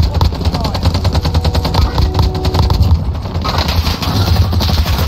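Video game gunfire in rapid automatic bursts, loud and close, rattling almost continuously with brief gaps while a voice speaks over it.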